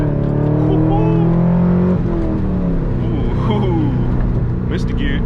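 Manual Corvette C5 accelerating through gears on backroads, the engine note climbing loud and close, dropping at a shift around two seconds, then rising again.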